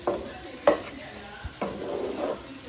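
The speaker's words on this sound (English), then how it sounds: "Just want to mix it in until it's nice and done." Rice being stirred into a mango sauce with vegetables in a pan, giving a few soft scraping strokes over a quiet, low sizzle, close and fairly faint.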